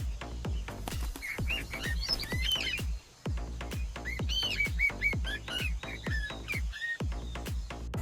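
Small real birds, the real-life counterpart of a cartoon canary, give repeated squawks and chirping whistles over a steady beat of loud, rhythmic background music.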